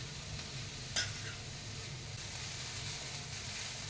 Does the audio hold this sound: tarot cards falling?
no